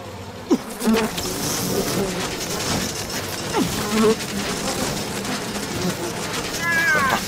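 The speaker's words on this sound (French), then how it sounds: "Un petit peu plus d'abeilles." Bees buzz in the video game We Happy Few, a steady insect drone running throughout, with a few louder swells as bees pass close and a voice speaking briefly over it.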